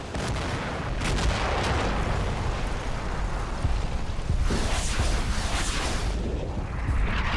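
German artillery fire in the Combat Mission: Battle for Normandy video game, a continuous rumbling barrage of distant booms and cracks layered over one another, with a heavier cluster of impacts toward the end.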